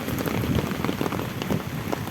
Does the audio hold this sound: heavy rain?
yes